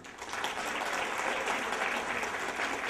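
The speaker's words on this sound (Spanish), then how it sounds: "Un aplauso para el señor gestor de la sede de LIJK, Edwin Ospina Cardoso" Sustained applause from an audience at a 2011 school graduation ceremony in an indoor hall, a steady dense clapping that fills the whole stretch at even loudness with no speech over it.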